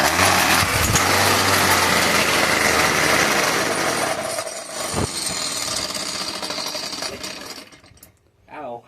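A weed eater engine strapped onto a bicycle runs with a loud buzzing, rattling whine that holds steady, then fades and sputters near the end amid clatter and a thump.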